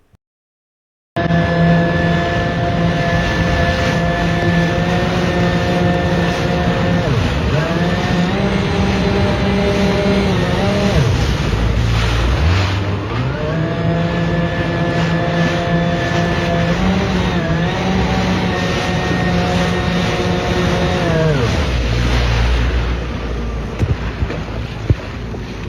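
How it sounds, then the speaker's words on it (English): High-powered engine whine from jet skis racing across open ocean, steady and loud throughout with pitch rising and falling as the throttle changes, mixed with wind and water rush. "riding high-speed jet skis in the middle of the ocean"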